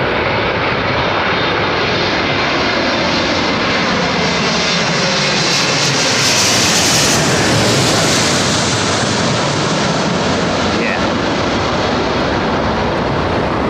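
A jet airliner with GE engines roars loudly and continuously at London Heathrow Airport, a broad, dense engine rumble that swells slightly midway as it passes close.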